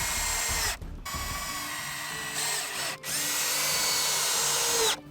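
Power drill driving a fastener to secure a PVC cross brace to a leg, in bursts of steady whirring broken by two short pauses, loud and close, with no talk.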